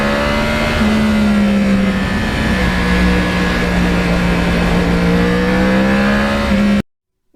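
A 2009 Yamaha R1 crossplane sport bike's engine holds a steady, loud drone while riding, with a smooth even pitch and rushing wind noise, cutting off abruptly near the end.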